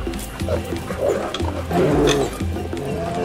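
A brown bear's deep roar rising in a forest, a loud, rumbling growl sustained across several seconds with throaty bursts, close and forceful, with an echoing quality.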